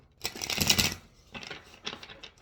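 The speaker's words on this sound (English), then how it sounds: "I feel like shuffling one more time." A deck of tarot cards is shuffled nearby: one long papery riffle followed by two shorter bursts of card flutter.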